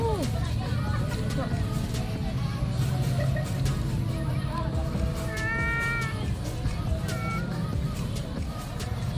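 A cat meows several times at a roadside fish eatery by a river mouth, mid-distance amid a busy hubbub of talk, clattering and passing traffic.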